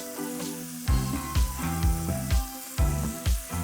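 Fresh mint and coriander stirred into a hot masala for a green mutton curry, with the spoon scraping in regular strokes over a soft sizzle, no talk.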